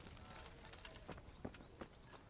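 Horse hooves clip-clopping as a rider travels in the medieval game Kingdom Come: Deliverance, a steady rhythm of soft hoof strikes over a constant ambient bed, moderately close, with no talk.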